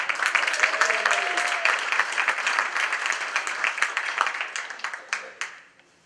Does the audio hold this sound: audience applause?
yes